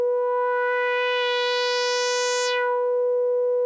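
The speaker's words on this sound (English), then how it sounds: "And this is how the decay sounds." A single sustained, bright buzzy note from a Stylophone Gen X-1 synth, held steady and loud while its upper brightness fades away partway through as the envelope decays; no voices.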